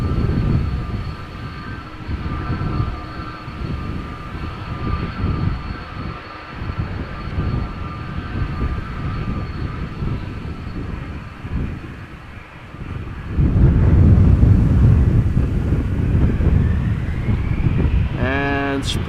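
A Cargolux Boeing 747 cargo jet landing at Amsterdam Schiphol Airport produces a continuous heavy engine roar with wind buffeting, swelling louder and closer toward the end as the aircraft passes.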